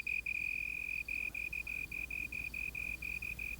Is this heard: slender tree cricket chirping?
yes